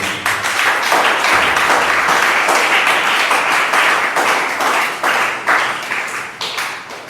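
A church congregation claps and cheers in acclaim of the Lord, with dense, continuous applause of many hands that stays loud throughout and thins slightly toward the end.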